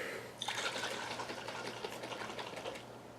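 A bottle of Starbucks unsweetened black coffee is shaken by hand, the liquid sloshing and bubbling in quick, close, fairly soft bursts for about three seconds after a brief quiet start.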